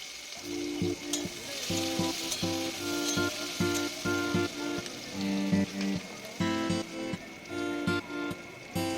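Whole garlic and chopped onion frying with panch phoron in hot oil crackle and sizzle loudly and continuously, with dense spitting pops and periodic stirring scrapes close up, no voices.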